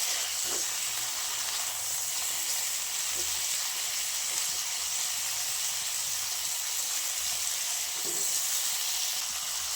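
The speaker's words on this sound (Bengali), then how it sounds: "এরপর লবণটা দিয়ে ভালোভাবে সিমগুলো নাড়াচাড়া করে লবণটা ভালোভাবে মিশিয়ে নেব" Green beans (flat sim beans) with salt frying in a pan, giving a continuous even hiss of sizzling with a few faint stirring knocks underneath.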